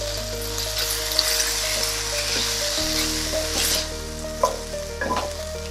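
Tomatoes stew and sizzle in a pan ahead of canned salmon, a steady close frying hiss under a low hum, broken by a few soft stirring scrapes and pops.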